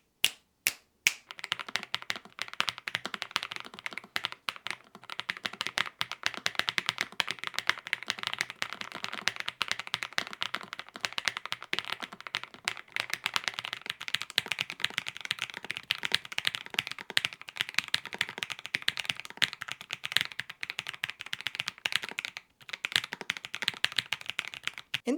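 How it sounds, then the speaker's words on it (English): Typing on Lofree Flow Lite and original Lofree Flow mechanical keyboards: a steady, rapid stream of crisp, close keystroke clicks and clacks running throughout with only brief pauses, no talking. "I've actually done a typing test with the Flow Lite and then another one with the original Flow"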